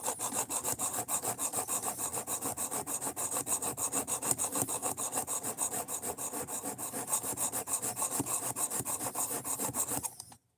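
Steady rhythmic rasping of a knife blade drawn across a sharpening stone, hogging off steel on a 25-degree bevel, continuous close strokes for about ten seconds before stopping abruptly.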